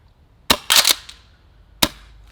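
A gas-powered airsoft M870 Breacher shotgun fires three sharp, close cracks, two in quick succession and one more a second later, with quiet pauses between.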